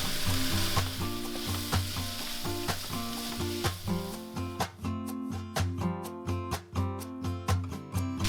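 Smoked sausage and garlic frying in a pan for a simple family dinner, a steady close sizzle with harmonic tones over it and a run of sharp rhythmic clicks and taps in the second half, with no talk.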